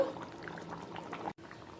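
Chicken curry simmering in a pan after hot water is added, a soft bubbling and pouring wash that stays low and steady, cut by a brief dropout near the end.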